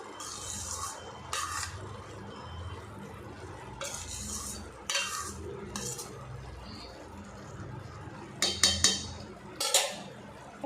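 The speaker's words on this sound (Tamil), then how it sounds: "இதோட நல்லா கலந்து விட்டுருங்க" Vermicelli upma is stirred in a pan with a metal spoon, giving soft scraping and rubbing strokes with a few sharper clinks of metal against the pan near the end, quiet and close with no talk.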